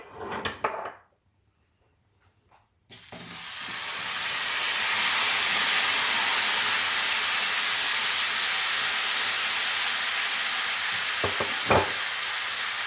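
Apples with cinnamon cooking in a pan over a medium flame for apple fritters, opening with a few clunks and a short pause, then a loud, steady sizzle that keeps going, broken by occasional stirring clicks.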